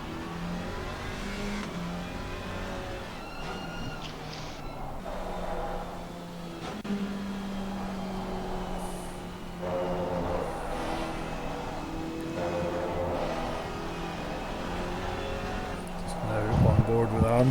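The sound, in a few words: Alpine GT4 race car engine from a racing video game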